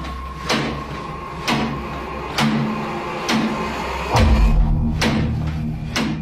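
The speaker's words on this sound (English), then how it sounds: "The culprit in the kitchen cupboard, whose door is banging over and over again." A kitchen cupboard door bangs repeatedly, about six sharp knocks spaced roughly a second apart, fairly close and loud over a low steady hum.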